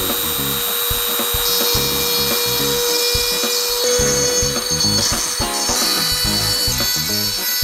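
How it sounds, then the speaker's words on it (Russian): A mini drill engraver running at full speed with a diamond bit bores into a glass lightbulb, giving a sustained high whine broken by rhythmic bursts of gritty grinding, close and loud. "Подрубаем гравер, берем новую лампочку, теперь рубаем мини-дрель на максимум."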